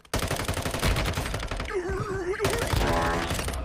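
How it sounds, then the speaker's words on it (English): Sustained automatic gunfire in the Warzone Mobile video game, loud rapid bursts firing nearly nonstop with a short lull in the middle, a wavering in-game tone briefly audible underneath. "getting shot at from behind"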